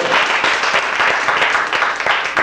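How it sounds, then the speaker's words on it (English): A church congregation claps hands together during a sermon, a dense, continuous burst of many palms with a loose, lively pulse, loud and close throughout. "Clap hands"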